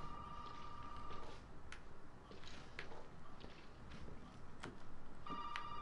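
An old telephone rings inside a house in the Resident Evil 7 video game, its bell coming in short repeated bursts at the start and again at the end over a steady dark ambient drone.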